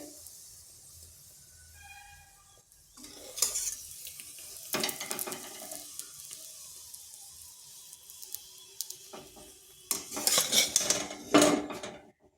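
Paratha frying in oil in a pan, a soft sizzle underneath scattered metallic clinks and scrapes of a utensil against the pan, growing busier and louder toward the end.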